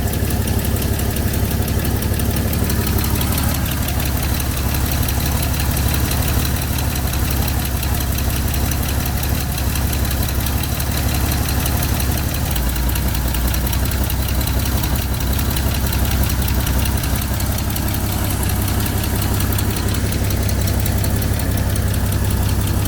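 A 6-cylinder engine idles steadily with a loud, close, low rumble and an even knocking pulse that continues unchanged for more than twenty seconds, without any talking.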